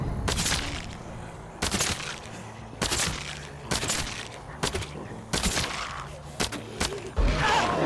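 Suppressed weapons firing in The Walking Dead: Saints & Sinners: about nine sharp, evenly spaced shots, each a loud, short burst over steady game ambience.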